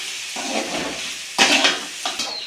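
Onions sautéing in a pan for a country chicken curry, a steady sizzle broken by a few scraping stirs of a spoon against the metal, close and fairly loud.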